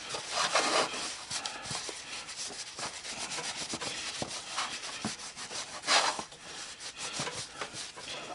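Cloth rubbing wax off a sand-cast copper dragon head, a close, soft scrubbing with irregular strokes and occasional harder swipes, continuous and fairly quiet, nobody talking.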